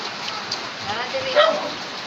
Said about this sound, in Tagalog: Pag ganito yung panahon, umuulan.